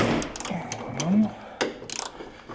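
A ratchet tool with a special socket head loosening tailgate bolts on a VW T5.1 van, a few quick ratcheting clicks near the end, heard close up after a short stretch of low background noise.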